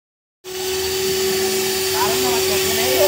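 A vacuum cleaner drones steadily and loudly with a constant whine, sucking thick carbon deposits out of a Maruti Dzire VDI diesel engine with a black smoke problem.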